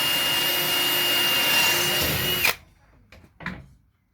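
A power drill with a SupaCut cobalt bit bores through metal, a loud steady high whine for about two and a half seconds that cuts off abruptly, followed by a couple of faint clicks and knocks.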